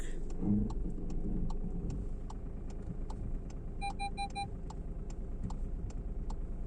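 Car reversing into a parallel parking spot on a narrow street: a low, steady engine idle with a rapid, regular ticking throughout and a brief electronic beeping partway through.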